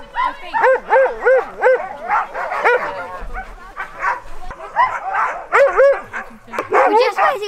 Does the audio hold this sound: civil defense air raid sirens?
no